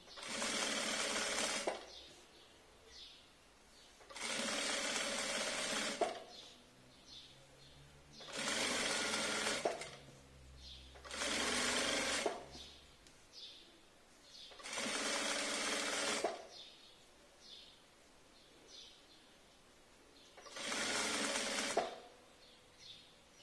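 A sewing machine stitches fabric in six close, loud bursts of roughly two seconds each, separated by short quiet pauses as the work is repositioned.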